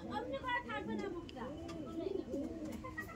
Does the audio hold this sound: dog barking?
no